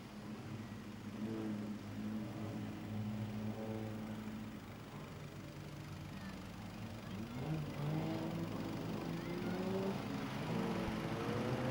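Several speedway race cars at Gympie Speedway roll up the main straightaway toward the start, their engines droning and rising steadily in pitch as they rev, loud and continuous without any talk.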